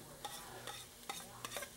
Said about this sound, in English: I usually use about 2 tablespoons of butter, and I get that going like that. Oh, that's a sizzling good.